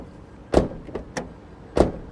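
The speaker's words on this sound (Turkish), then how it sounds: "Şöyle kapıları da dinleteyim size." A Dacia Spring Extreme electric car's rear door is shut with a solid thud, followed by smaller clicks and then a second firm slam, close by with quiet between.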